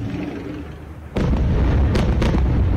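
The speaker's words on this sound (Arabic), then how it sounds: "دي لحظة الاستهداف أكثر من غارة" Heavy Israeli airstrike bombs exploding at Ghazieh near Saida in southern Lebanon: after a steady rumble, a loud deep blast erupts and rolls on, with further booming impacts layered into a sustained roar, fairly close.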